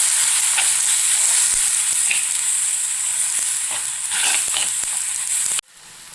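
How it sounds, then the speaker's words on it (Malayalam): Turmeric, coriander and chili powders frying in oil for a fish egg curry, a loud hissing sizzle with light stirring scrapes, ending in a sudden drop to a quieter sizzle. "മഞ്ഞൾപ്പൊടി, മല്ലിപ്പൊടി, മുളക് പൊടി നന്നായി ഇളക്കി കൊടുക്കുക."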